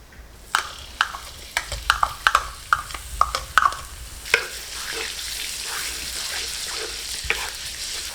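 Chopped garlic dropped into half a cup of hot oil for a taro parcel filling, starting with sharp crackles and stirring clatters, then settling into a steady close sizzle with no talking.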